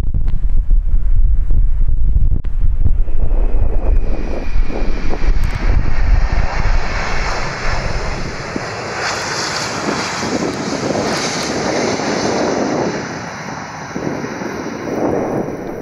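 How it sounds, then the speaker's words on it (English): A Boeing 747 landing in windy Amsterdam gives a loud, sustained engine roar with gusting wind noise on the microphone, the low rumble easing into a broad, steady hiss and whine. "This Boeing 747 landing in a windy Amsterdam nearly struck its engine into the runway."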